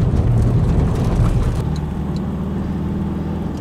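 A 2016 Toyota Hiace commuter van with a 2.5 diesel engine drives along, giving a steady, close, loud engine drone and road rumble that eases slightly midway, with no one talking.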